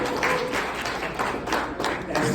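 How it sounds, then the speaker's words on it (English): At a church organization's strategic plan presentation, an audience claps in a thick, continuous wash of sound. It is loud and close and lasts only a couple of seconds, with some voices mixed in. "clap it up"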